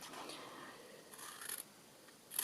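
Scissors snip through designer series paper with soft, close crisp cuts in a short run, quiet and alone, with a sharper snip at the end.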